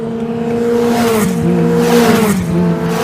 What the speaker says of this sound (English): You see cars in the background of shot.